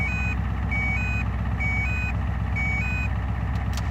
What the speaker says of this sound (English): now you heard it beep there